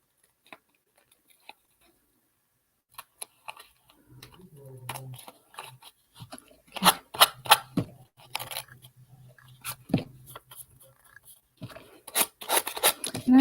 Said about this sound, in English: taking the sanding block and going straight against it, and it cuts it out